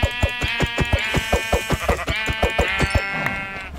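Sheep in the video game Minecraft bleat in a rapid, evenly spaced run of short, loud, buzzy calls, close and unaccompanied by talk.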